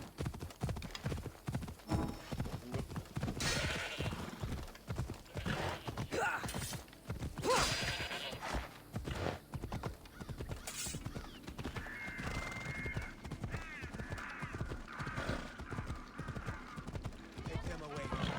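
Horse hooves in Assassin's Creed Odyssey clop in a quick, steady rhythm, close and prominent, with occasional snorts and game sound effects layered over them, while someone speaks intermittently.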